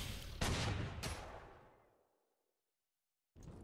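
A couple of sharp gunshot blasts fire in quick succession during the World War II strategy game Panzer Corps 2, set in North Africa in 1941, then a long reverberant decay fades into silence.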